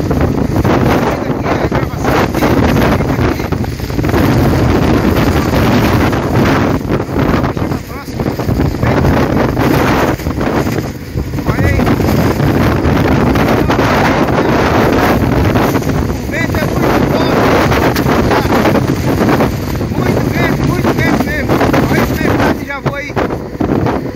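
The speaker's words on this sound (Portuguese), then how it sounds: "Muito vento, muito vento, vento, muito vento mesmo." Strong wind at sea off Balneário Camboriú near a boat during an attempt to recover a floating club, with loud continuous gusting roar and buffeting throughout, and voices speaking intermittently.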